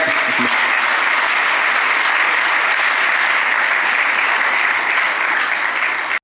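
Hearty, sustained applause from a large audience at a talk on Swami Vivekananda's Chicago speech, a thick, loud wash of clapping that holds steady throughout before cutting off abruptly at the end.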